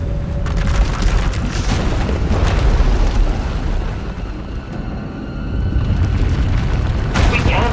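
A power eruption explosion in Star Wars: The Old Republic, destroying an asylum: a loud, sustained booming roar rolls on throughout, easing slightly midway before swelling again, under and between spoken dialogue.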